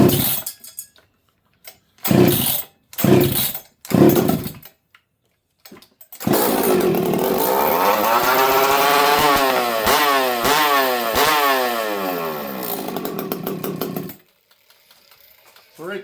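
A chainsaw that has sat unused for about six months, started on full choke and fitted with a piped exhaust: several short rasping pull-starts, then it catches and runs loudly and continuously, revving up and down before cutting off, with a voice briefly heard.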